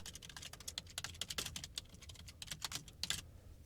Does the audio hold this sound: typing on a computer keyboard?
yes